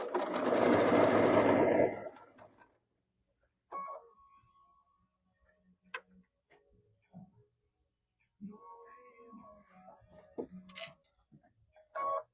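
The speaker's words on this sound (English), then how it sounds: "we're going to sew these 5 together." A sewing machine stitching quilt blocks together runs in one quick, fast-humming burst of about two seconds, then gives way to quiet scattered clicks and handling sounds.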